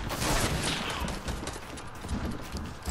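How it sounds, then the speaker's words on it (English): An enemy squad opens fire in a shooter game, sending a rapid, uneven patter of distant gunshots through a busy, noisy mix, with no speech. "another squad shooting at me"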